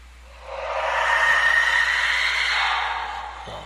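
A broad, steady hiss of white noise swells in, holds for a few seconds and then fades, with a faint thin tone riding inside it and no voices.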